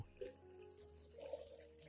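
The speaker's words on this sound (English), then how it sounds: "Add 1 liter of clean room temperature water to dilute the solution" Clean room-temperature water pours steadily into an orchid nutrient solution to dilute it, a soft, continuous trickle and splash close by, with no voices.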